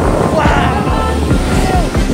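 Sea spray bursts from a rock blowhole on the coast of Santa Elena, Ecuador, a loud rushing, hissing surge of surf and wind buffeting the microphone, with voices faintly present.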